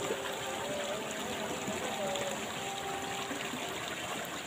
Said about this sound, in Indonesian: ketika mendengarkan air mengalir itu